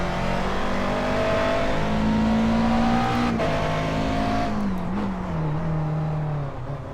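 Endurance-racing Daytona Prototype cars at Watkins Glen in the iRacing sim roar past, a loud sustained engine drone with pitch shifting as the cars go through the gears, fading slightly at the end.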